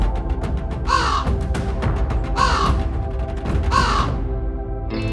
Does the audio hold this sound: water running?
no